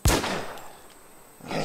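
A gun fires at a zombie in the survival game The War Z: one sharp, loud shot with a ringing tail, then a second shot begins near the end.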